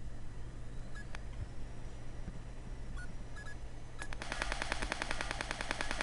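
Rapid automatic gunfire from the online game Wings.io rattles in a dense, steady burst for the last couple of seconds, following a few scattered electronic blips over a constant background hum.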